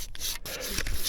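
Hand saw rasping through ice outdoors in a winter forest, a close, continuous scraping grind with short pauses between strokes.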